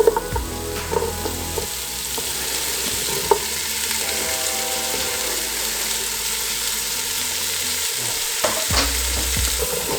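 Celery, carrots, onions and garlic sizzling in butter while a spoon stirs and scrapes the pan bottom, close and steady with occasional clinks, no voices.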